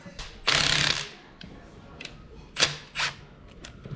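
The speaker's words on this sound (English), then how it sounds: "this thing can't tighten a nut up on a downpipe clamp" A ratchet wrench tightens a nut on a downpipe clamp during a compound turbo kit install on a 6.7L Ford F450, giving a few short bursts of clicking with quiet gaps between them.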